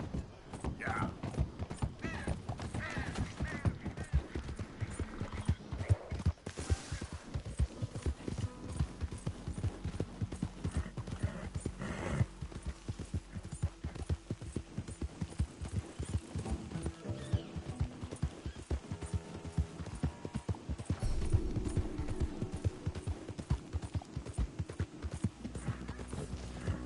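Hooves of a galloping horse clip-clop in a fast, steady rhythm throughout in Red Dead Redemption II, with occasional snorts and a brief voice over the running.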